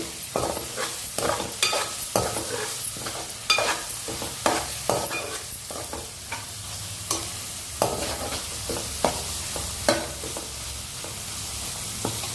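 Tempering for rasam and amaranth fry sizzling in hot oil, with steady loud frying crackle and repeated stirring scrapes and clinks of a utensil against the pan.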